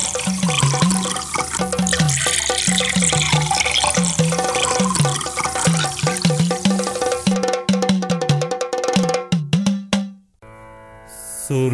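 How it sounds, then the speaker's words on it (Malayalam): Water is poured steadily into stone jars, a continuous splashing flow running beneath a repeating melodic music bed that breaks off abruptly near the end. "ഈ കൽഭരണികളിൽ വെള്ളം നിറയ്ക്കുക."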